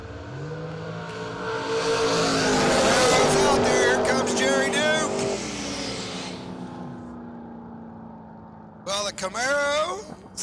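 A Camaro launches down a drag strip at an Outlaw series race. A loud, roaring engine surges and then fades as the car pulls away, while a race announcer talks over the track noise.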